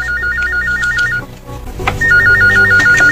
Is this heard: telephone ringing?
yes